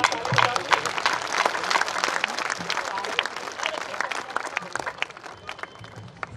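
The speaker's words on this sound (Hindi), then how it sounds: "महेंद्र साहब के जोरदार तालियां" An audience at a poetry gathering (kavi sammelan) in Ahmedabad claps loudly for a few seconds. The dense, crackling applause gradually thins toward the end, with voices mixed in.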